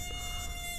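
A mosquito, ridden like a pet by a wolf, gives a close, steady high-pitched whining buzz in a brief burst with no other sound.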